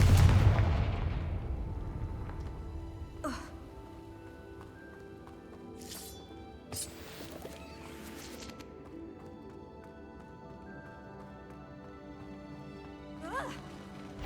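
In the video game Hogwarts Legacy, the Confringo fire spell goes off as a booming blast that fades out. Sharp cracks and impacts follow, spread out over a quieter backdrop of game ambience.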